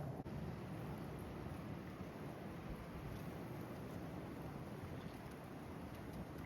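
Wind blows steadily through winter woods, a continuous loud rushing roar with gusty buffeting against the microphone and no voices.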